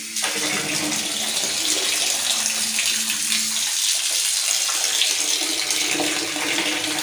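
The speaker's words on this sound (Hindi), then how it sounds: "तो अब हम पानी खोल देते हैं यहाँ से।" Hot water runs steadily from a tap after a household geyser, a loud continuous gushing stream filling a bucket with no voices over it.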